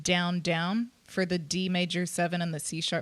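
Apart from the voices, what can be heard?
None of the usual background noises is heard.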